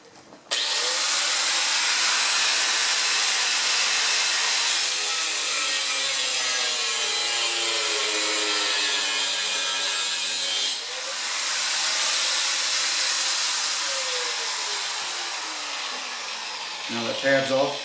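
A power tool blade grinds through a metal tab on a brush guard for a Kubota tractor, a loud sustained high-pitched cutting whine that pauses briefly midway and then resumes before stopping.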